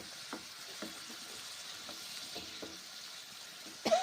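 Radish, yardlong beans and tomato fry in a pan with a soft, quiet sizzle, broken by occasional light clacks and scrapes of stirring.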